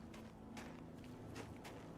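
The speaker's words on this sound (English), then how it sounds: "The noise of like footsteps on the snow, I love it." Footsteps crunch on snow in the video game Oblivion, a few soft irregular steps over a low steady background hum, quiet and without speech.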